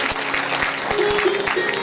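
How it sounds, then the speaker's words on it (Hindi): An audience applauds dancers at a devotional bhajan performance, a continuous patter of clapping with a few sharper individual claps, while a faint tone hums underneath. "तालियों से हौसला बढ़ाए"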